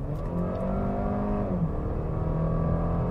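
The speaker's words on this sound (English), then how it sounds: "That this engine, then when it runs on CNG, it sounds a little bit more high revving." A 2018 Audi A5 Sportback g-tron running on CNG revs steadily under acceleration, a loud, continuous engine hum with a smooth pitch change midway, heard from inside the car with no talk.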